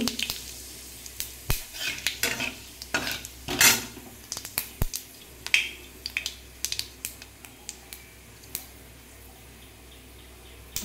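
Whole cumin and spices dropped into hot oil for a vegetarian soybean dish, crackling in a busy sizzle with sharp pops and clinks of a utensil against the pan, close and fairly loud, without talk.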